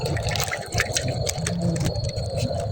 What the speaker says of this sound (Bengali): ডাল করে ধুয়ে ঢালো পানি